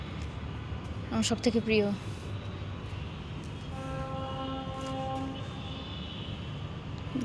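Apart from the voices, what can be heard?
train horn or whistle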